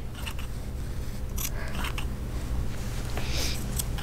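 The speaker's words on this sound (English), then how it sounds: "I'm gonna cut straight across the top and just shape it." Sharp scissors snipping yarn to trim and shape a turkey stitch, a quick run of close, crisp cuts over a steady low background hum, with no talking.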